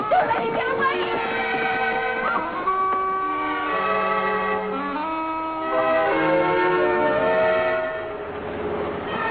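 A train on the move in an old television comedy scene, its steady rumble and whistle-like tones sustained throughout with no gaps, loud and close, while background voices and music-like harmonics blend in.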